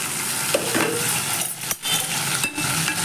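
Tomatoes tipped into a hot frying pan of curry leaves and spices for tomato rice, a brief crackling sizzle broken by a few sharp clinks and scrapes of a utensil against the pan.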